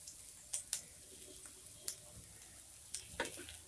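Capsicum and green chilli stir-frying in a pan for veg chowmein, a soft steady sizzle with a few sharp scrapes and clicks of stirring, fairly quiet and close.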